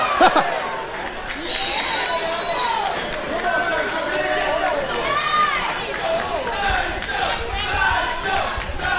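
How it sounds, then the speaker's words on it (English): Wrestling crowd at an independent show cheering and shouting for Sideshow, a dense roar of voices and yells at moderate level filling the space, with excited individual shouts rising above the mass. "Listen to this crowd come alive for the one and only Sideshow"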